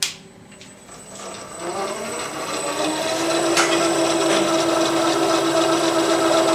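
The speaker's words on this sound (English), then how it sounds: "Next thing we do is bring the rotor up to speed." A rotor on a pocket balancer spins up to speed, a steady mechanical whir with a rising tonal hum that builds and holds loud and close, with no talk.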